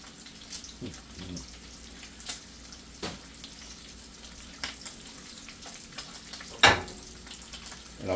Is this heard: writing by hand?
no